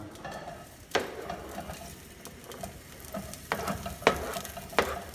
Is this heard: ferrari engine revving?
no